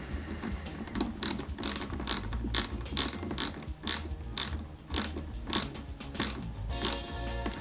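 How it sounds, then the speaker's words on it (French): Small screws being driven by hand into a plastic part of a 1:8 style Peugeot 205 GTI 1.9 scale model kit, producing a rapid series of rhythmic ratcheting clicks from a nearby screwdriver, steady and close, with no talking. "on positionne la pièce en plastique sur son support comme ceci et on vient y mettre deux vis"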